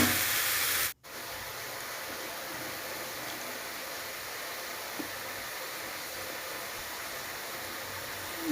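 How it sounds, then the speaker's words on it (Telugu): Barbati beans fry in a pan over a high flame, giving a steady, loud, hissing sizzle that drops out briefly near the start, then carries on evenly. "ఒక 2 మినిట్స్ ఫ్రై చేద్దాం ఇలాగే"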